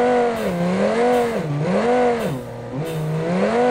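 A twin-turbo Vette kart in BeamNG.drive launches hard, its engine note climbing and dropping in loud wavering surges as revs rise and fall through shifts, close and steady with no voices.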